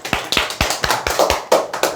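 Small audience clapping in a sales and investment seminar, a dozen or so sharp, fairly loud claps in an uneven, brisk rhythm with no talk over them.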